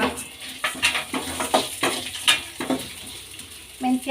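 Toor dal, urad dal and coriander seeds frying together in hot oil give a steady near sizzle, broken by the scrape and clatter of a stirring spoon against the pan, with no talk over it.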